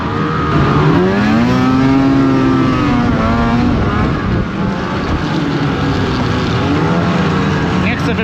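A snowmobile engine drones steadily and loudly during a ride near Zakopane, with its pitch rising and falling as the throttle changes, and wind noise throughout.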